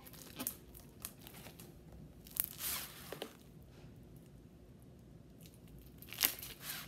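Crunchy slime being squished gives sticky, crackly squishing and crunching bursts in scattered pops and snaps close up, separated by quiet pauses, no talking.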